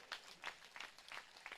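A crowd at a spiritual discourse gathering claps in faint, distant, rhythmic bursts, evenly spaced like a steady beat.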